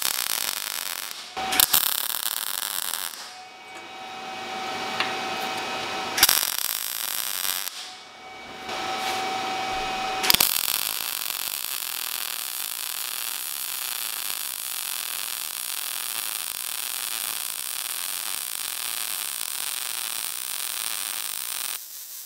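A cheap MIG welder runs beads on 2 mil steel at about 18.5 volts: a steady, loud, broadband crackling hiss in bursts broken by short pauses, then one long continuous run with no talking.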